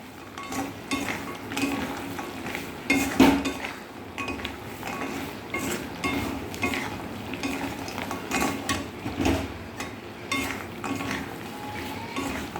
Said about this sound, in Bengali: এইবার এইগুলো ভেজে রাখা গজাগুলো দিয়ে দিতে হবে। দিয়ে নাড়াচাড়া করতে করতেই হয়ে যাবে।